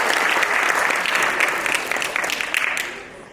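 A concert audience claps in an auditorium at a winter concert. The applause is dense and steady close by, then gradually thins and tapers off.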